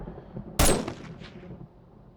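A single loud, sharp sniper rifle shot with an 8x zoom scope rings out in the zombie game 7 Days to Die Alpha 20, followed by a short fading echo before quiet returns.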